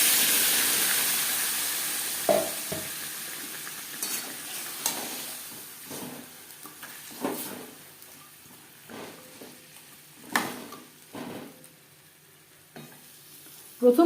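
Marinated chicken added to hot oil in a kadai used for frying potatoes, sizzling steadily with intermittent stirring clatter and scrapes, close and moderately loud with no talking.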